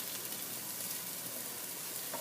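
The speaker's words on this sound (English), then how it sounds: "just keep stirring your vegetables together" Vegetables stir-fried in a pan for an Asian chicken noodle dish give off a continuous dense sizzle and hiss, fairly quiet and steady throughout.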